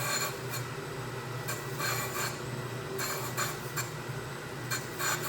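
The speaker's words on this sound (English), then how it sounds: "we'll rough grind the backside, and you can see how it's hitting on the points on the outside" A grinder roughing the backside of a V block, giving a steady harsh rasping hiss that swells in repeated bursts with each pass across the workpiece.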